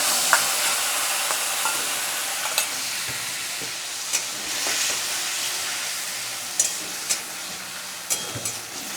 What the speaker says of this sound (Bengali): তেল ছাড়া অবধি মশলাটা ভালো মতো করে কষিয়ে নেবো